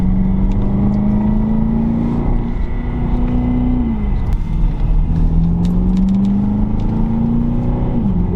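A 2021 Aston Martin DBX luxury SUV accelerates with a smooth engine drone that climbs in pitch, drops at a gear change and climbs again, heard close and continuous with no speech.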